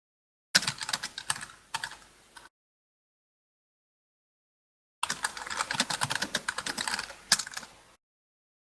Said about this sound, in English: I just hear you fucking hammering that keyboard.